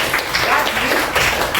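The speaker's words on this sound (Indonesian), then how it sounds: "Berikan tepuk tangan kepada saya dan Wahyu ya." A short burst of scattered hand clapping from a small group, fairly loud and close.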